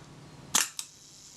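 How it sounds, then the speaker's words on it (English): A Kodak Retina Reflex III camera needing service fires its shutter, a sharp mechanical clack followed by a second fainter snap about a quarter second later, close and alone in a quiet room. "And there's the shutter fired."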